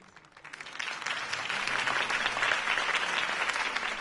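Crowd applause after a campaign speech in an animated Batman episode, starting soft and swelling within a second into sustained loud clapping that continues evenly to the end.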